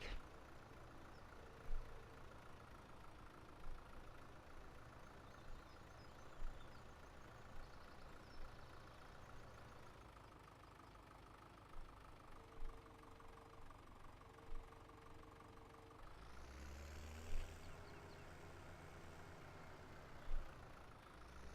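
Farming Simulator 17 tractor engine idling and running steadily in a low, continuous drone, with a brief louder rev near the end, heard alone without talk.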